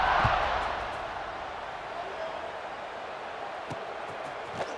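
A football stadium crowd roars during Tennessee vs Ole Miss, a broad sustained wash of cheering that slowly eases, with a commentator's voice over it.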